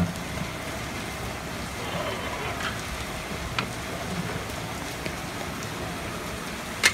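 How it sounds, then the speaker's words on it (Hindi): Heavy rain pours down outside a village temple where a large batch of porridge is being cooked, a dense steady hiss filling the whole stretch with no break and no talk. "और अभी बारिश बहुत ही जोरों से लगी हुई है"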